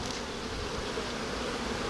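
Honeybees buzz in a dense, continuous drone, close and fairly quiet, while a hive is worked and a honey super is added.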